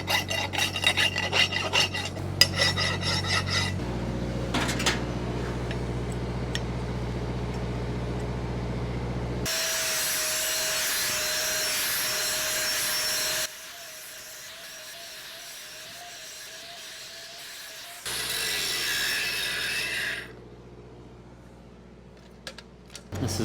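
Cut steel pipe bevel being squared up by hand with a file, giving steady close rasping strokes that go on for long stretches, with changes in tone and a quieter gap partway through.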